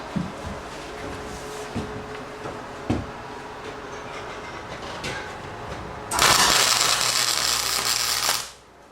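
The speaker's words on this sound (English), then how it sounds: "Now we're going to tack it in place." A wire-feed welder tack welding onto a steel bus frame during a bus conversion. A loud, crackling burst of about two seconds comes after some quieter handling clicks and knocks, then stops abruptly.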